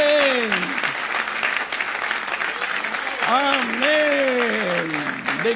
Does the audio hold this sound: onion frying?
no